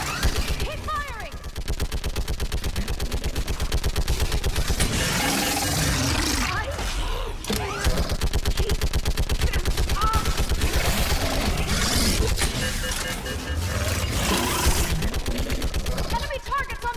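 Rapid automatic gunfire in a Mass Effect 3 battle on Thessia, loud sustained bursts of shots with impacts and explosions, while soldiers shout commands over the fight.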